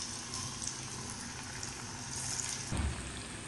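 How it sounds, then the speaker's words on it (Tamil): Banana flower vadas dropped into about a quarter litre of hot oil, a steady bubbling sizzle throughout, swelling briefly near the end as more batter hits the oil. "நல்லா 1/4 லிட்டர் அளவுக்கு எண்ணெய் வச்சு தட்டின வடையை அதில் போட்டுடணும்"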